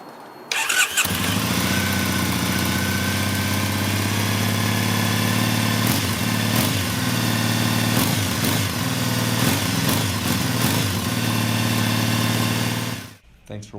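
A 2012 Triumph Bonneville SE 865cc motorcycle engine cranks and fires, then settles into a steady, loud, close idle with a few throttle blips before cutting off abruptly at the end.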